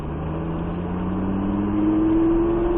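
Lamborghini engine accelerating on a race track, a loud continuous drone rising steadily in pitch as power is fed down the straight, close and unbroken for the whole stretch.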